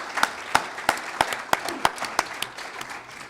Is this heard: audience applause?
yes